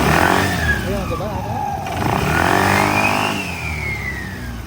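A Yamaha Aerox or NMAX scooter with a YECVT pulley problem is revved in a repair shop, the engine climbing and falling in pitch close by while someone talks over it.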